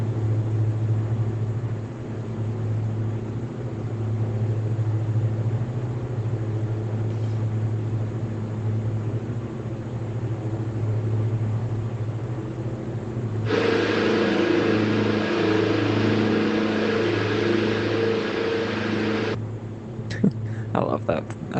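A small bush plane's engine drones steadily in Microsoft Flight Simulator 2024 played in VR, a constant hum that swells louder for several seconds, with someone talking over it.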